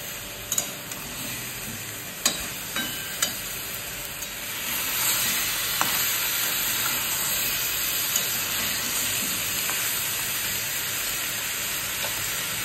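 Half a tomato frying in a pot for a home-style chicken stew: a steady sizzle and hiss runs throughout, punctuated by occasional sharp clicks and scrapes of stirring, growing slightly fuller midway, with no talking.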